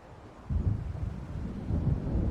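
Deep thunder rolls in from a coming storm in the game Alan Wake, a low rumble that swells after a quiet start and keeps grumbling, with no voices over it.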